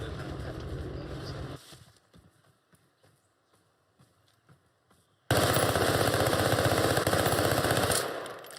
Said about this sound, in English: Warning shots. You always have to give warning shots.